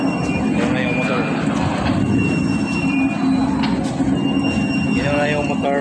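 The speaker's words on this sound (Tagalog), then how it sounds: "Yun na yung motor." A ship's engine runs with a loud, steady low rumble and droning hum aboard a passenger vessel bound for Manila, while people talk over the constant machinery noise.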